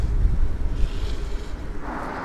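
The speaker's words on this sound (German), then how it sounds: "Ich möchte jetzt auf jeden Fall mal aus diesem Wind raus hier." Strong wind buffets the microphone while cycling over a mountain pass in Sicily, a loud, gusty roar with low rumbling surges that ease slightly toward the end, no voices heard.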